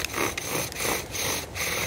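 A bow drill spindle grinds into a wooden hearth board, and the wood is now burning rather than polishing: a close, rough, rhythmic rasping that rises and falls with each back-and-forth stroke of the bow.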